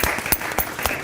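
A studio audience on a French TV show applauds, a brief dense burst of clapping that carries evenly from start to finish.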